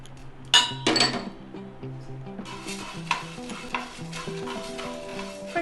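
Coriander seeds are stirred and dry-roasted in a pan for sambar powder, a few sharp metallic clinks followed by repeated rattling scrapes, with gentle music underneath.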